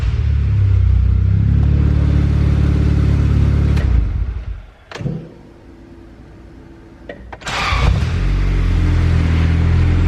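A turbocharged Honda Civic engine revs loudly and close, holding a strong rumble, dropping back to a quieter idle for a few seconds, then rising again to a sustained roar.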